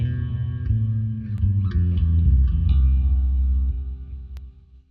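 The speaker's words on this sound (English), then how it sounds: "We got a phaser." Bass guitar played through a factory phaser preset on a Headrush MX5 with Ampeg amp model and reverb, a sustained swirling line of several notes, loud and close with no talking.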